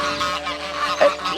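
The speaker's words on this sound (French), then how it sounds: "Eh bien, merci pour l'accueil, les oies." Geese on a farm in Africa honk loudly and close by, a cluster of harsh nasal calls with one sharper honk near the end, no speech.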